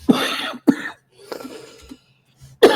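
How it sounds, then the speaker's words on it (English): A person coughs several times in quick bursts, close and fairly loud, with short pauses and a quieter rough throat sound between them. "Sorry, stream, for getting all that cough."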